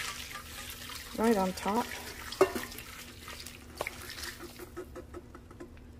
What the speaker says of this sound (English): I'm gonna add my hot broth